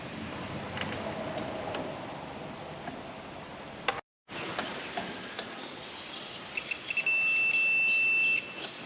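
A multimeter gives a continuity test on mower wiring during a repair, a steady electronic beep lasting about a second and a half near the end, over a hissy background with a few faint ticks and no talking.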